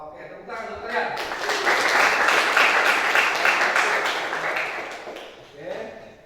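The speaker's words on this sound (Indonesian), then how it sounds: "Oke, tepuk tangan untuk kalian." A classroom of students bursts into applause that swells and fades over several seconds, with a teacher's voice briefly before and after the clapping.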